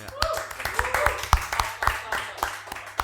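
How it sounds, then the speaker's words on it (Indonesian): Audience applause at an organisational forum, a fairly sparse patter of claps with distinct individual hits, while a voice and some murmuring carry on underneath. "kita beri tepuk tangan sekali lagi"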